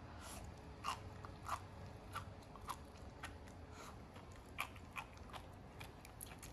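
Crunchy chewing of salty jellyfish caught on a beach at low tide, a series of sharp crackling bites spaced irregularly over a faint background hum, close and quiet.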